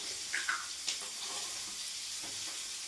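Bata fish frying in a pan, a steady broadband sizzle running the whole time with a few brief spatters and clinks near the start, no talk over it.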